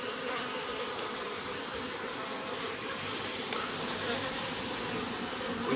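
Honeybees, drones among them, buzz inside a hive opened at its slide-out bottom board. The dense, continuous droning hum holds at an even level throughout, with no voices.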